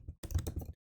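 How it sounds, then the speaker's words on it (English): Typing on a computer keyboard while filling in a form: a short dense run of close, soft key clicks that ends abruptly. "When we are typing,"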